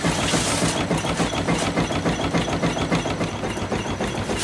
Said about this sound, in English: Here we see a 1908 Skinner Electric Company power plant.